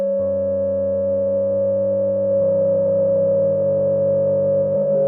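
A steady, eerie filtered synthesizer tone for horror music holds a single pitch with a low drone beneath it. The lower layer shifts about midway through. The tone is loud and sustained, with no voices.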